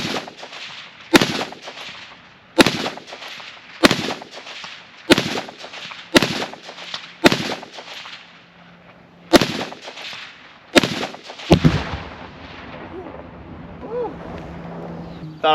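A Steyr AUG rifle fires long-distance shots using iron sights outdoors, about ten loud, sharp reports spaced a second or so apart with echoing tails, followed by a rumbling, clattering noise at the end.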